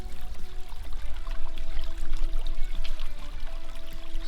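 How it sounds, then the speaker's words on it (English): Water pours steadily through a gold-prospecting sluice box, making a continuous close splashing flow with small bursts and gurgles. A low hum runs underneath, and no one speaks. "Sluice looks like it's running pretty good."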